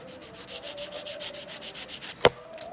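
Nail file with a 180 grit side rubs rhythmically back and forth, reshaping an acrylic stiletto nail; steady close scraping strokes, about a dozen in a row, with one sharp click near the end.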